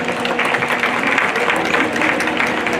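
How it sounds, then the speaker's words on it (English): A crowd claps for a young showman at a junior livestock show, a steady roomy round of applause with faint murmur underneath. "Showman, big round of applause."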